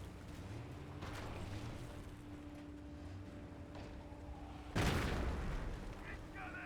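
Anti-tank gun in a Company of Heroes battle fires a single sharp, loud boom near the end, cutting through low battlefield rumble and distant muffled thuds.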